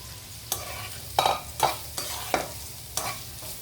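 Beef hitting a pan with onions, green chilli, capsicum and black pepper while making spaghetti, giving a steady low sizzle broken by several sharp scrape-and-stir bursts, close and fairly loud, with no talking.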